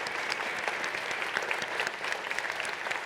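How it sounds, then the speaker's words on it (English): An audience at a town hall meeting applauds, a dense, steady round of clapping that fills the whole stretch at even loudness with no voices over it. "can you raise your hand so we can all give you a round of applause, please?"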